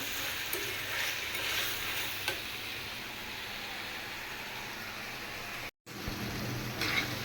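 Bitter gourd curry frying in a pan makes a steady, fairly quiet sizzle with occasional stirring scrapes and a brief cut of silence near the end.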